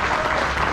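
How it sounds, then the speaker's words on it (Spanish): Audience applause for Don Eloy at an anniversary breakfast gathering, dense steady clapping from a crowd, loud and continuous throughout. "un aplauso para Don Eloy"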